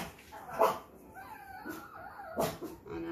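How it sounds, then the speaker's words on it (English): Indoor dogs let out soft whimpers and yips with a few short barks, fairly quiet and intermittent over a few seconds. "There go the dogs."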